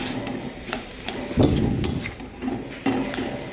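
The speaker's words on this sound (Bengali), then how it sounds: "ভালোভাবে নেড়ে করে দিচ্ছি ডিম দিয়ে দিলাম" Potato and egg curry frying in a pan while being stirred, steady sizzling under scraping and clinking of a spoon against the pan, close and fairly loud.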